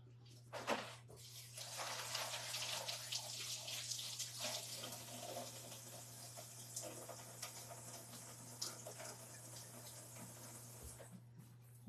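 Tap water runs steadily into a kitchen sink while something is rinsed under it during meal prep, a continuous close splashing hiss with brief louder bursts and a low steady hum underneath.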